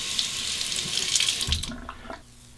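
Razor rinsed under a running tap mid-shave, steady close rush of faucet water that stops partway, with a few clinks and splashes afterward.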